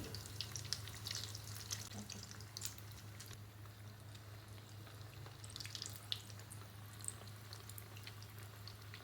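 Potato cheese balls deep-frying in oil on a medium flame give a faint, steady sizzle with light crackles over a low background hum.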